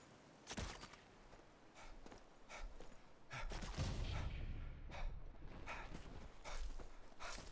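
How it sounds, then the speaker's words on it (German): Several faint, distant gunshots in a video game crack at irregular intervals over a low background rumble, with some shuffling movement between them. "Das war auch mehr als ein Schuss, oder?"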